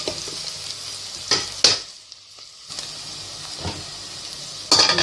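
Sliced onions fry in hot oil for a Nigerian meat pie filling, with a steady sizzle and hiss under a few loud bursts of stirring and scraping in the pan.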